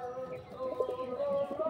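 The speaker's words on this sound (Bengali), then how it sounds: "পায়রাটা মাদি পায়রা" A female pigeon coos softly amid a busy outdoor background, faint tonal calls rising briefly over steady ambient noise.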